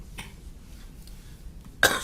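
One sharp cough bursts out near the end of a quiet stretch in a courtroom, short and fairly close.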